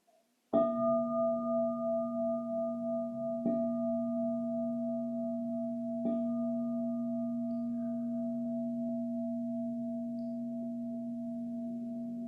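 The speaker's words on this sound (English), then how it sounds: "following the tradition, I'll ring the bell 3 times" A meditation bell struck three times at even intervals, each clear ringing tone layering over the last and sustaining as a long, slowly fading hum.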